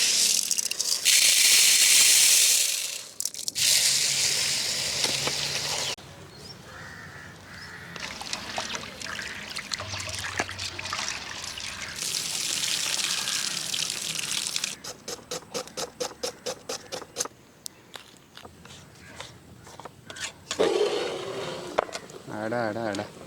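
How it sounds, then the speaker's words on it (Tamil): Chana dal (split chickpeas) being rinsed in water, with bursts of gushing and splashing that come and go over the whole stretch, mixed with outdoor background noise. "இந்த கடலைப்பருப்பு நல்லா கழுவிட்டு ஊற வச்சுக்கலாங்க."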